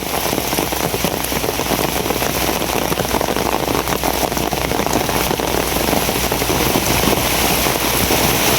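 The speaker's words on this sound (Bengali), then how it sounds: "বৃষ্টির মধ্যে ঘোরাঘুরি করতে ভালোই লাগে মোটামুটি" Steady, heavy rain pours down outdoors near a jujube tree, a dense, loud patter drumming on surfaces throughout with no break and no voices.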